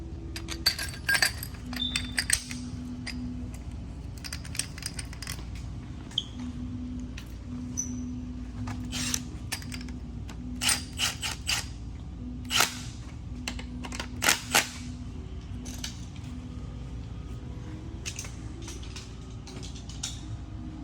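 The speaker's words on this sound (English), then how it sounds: "now we're going to tighten the bolt" Metal clinks and small mechanical clicks from a wrench tightening cam bolts on a Rolls-Royce V12 engine during timing setup, scattered irregularly over a steady low hum, close and moderately quiet.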